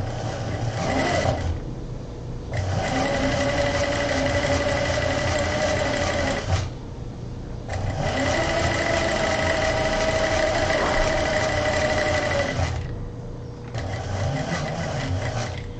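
A sewing machine runs steadily in long continuous bursts while backstitching a fabric backpack, with brief pauses between passes and a loud, close mechanical whir.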